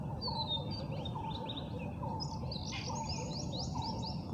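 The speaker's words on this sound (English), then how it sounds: "Chirping of the birds are amusing you." Small birds chirp and tweet in quick repeated calls over a steady low outdoor hum, faint and somewhat distant, with no voices present.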